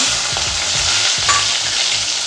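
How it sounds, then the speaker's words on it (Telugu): Green chillies and carrots fry in a hot pan for a cauliflower mixed-vegetable curry, giving a steady close sizzle with scraping stirs and soft utensil knocks throughout, with no talking. "అట్లాగే పచ్చిమిరపకాయ క్యారెట్ ఇవైతే మంచిగా ఫ్రై కానివ్వండి"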